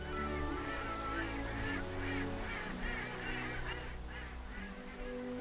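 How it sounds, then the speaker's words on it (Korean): Geese and other migratory water birds honk and call repeatedly by an urban river, a dense, continuous chorus of overlapping calls over steady background noise. "도심 곁 강줄기는 철새들의 쉼터. 못 물새들이 찾아와 고단한 날개를 쉬어가기엔 선바위만한 곳이 없습니다."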